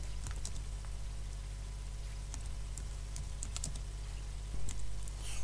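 Computer keyboard typing, a quick run of light, close key clicks alone in a quiet room, ending in a few firmer taps.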